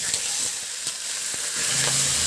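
Pork liempo sizzles in caramelized sugar, a close, bright hiss with a few sharp spits and crackles and a brief stirring scrape, with no voices.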